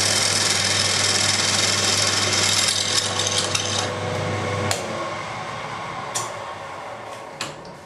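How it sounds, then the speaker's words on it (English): A big machine drill runs in a workshop while holes are bored into a part held on a locked machine table. A loud, steady motor drone and cutting noise stops partway through, followed by a few sharp clicks and knocks. "It's a big machine drill."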